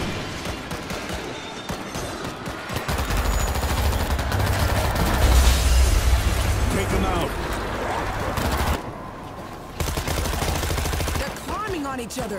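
Rapid gunfire in the World War Z zombie shooter game, bursts of shots layered under loud in-game dialogue and music, with a short lull near the end before the firing picks up again.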